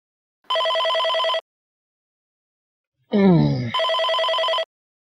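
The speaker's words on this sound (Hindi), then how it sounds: "देखो किसका फोन है।" A telephone rings in two electronic bursts separated by a pause, with a short groan or sigh just before the second ring.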